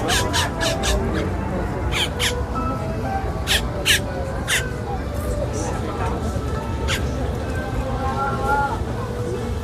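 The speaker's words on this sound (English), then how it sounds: "Couple birds going at it right there." Crows caw repeatedly outdoors at Walt Disney World, sharp harsh calls in irregular clusters over a steady crowd hubbub with people talking.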